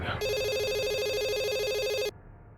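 A telephone rings with a steady electronic trill that lasts about two seconds and then stops abruptly, fairly clear over a quiet room.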